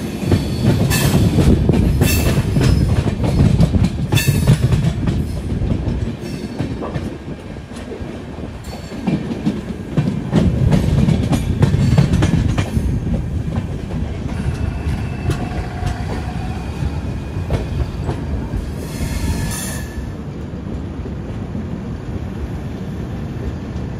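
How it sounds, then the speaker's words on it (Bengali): The Kamrup Express pulls away and runs on, a loud, continuous rumble of rolling wagons with rhythmic clickety-clack from the wheels and a faint squeal of wheels on rail. "12টা 32:30 এই সময় ট্রেন ছাড়ছে।"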